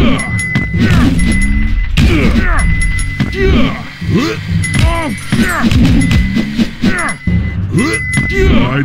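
A dive bomb impact from the Henry Danger Crime Warp mobile game lands as loud thunks and thuds among busy synthetic game effects and voice-like sounds, repeating several times in close succession.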